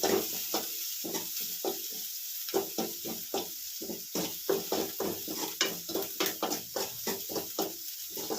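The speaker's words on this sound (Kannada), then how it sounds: "ಇದು ಒಗ್ಗರಣೆ ಮಾಡ್ತಾ ಇರೋದು" Curry leaves sizzle in hot oil for a tempering. A steady frying hiss runs under rapid, rhythmic scraping strokes of a spoon stirring in the pan.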